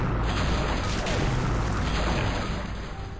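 Ship's cannon firing in The Curse of Monkey Island video game, a loud sustained boom with rattling mechanical clatter that holds steady for several seconds before tapering slightly.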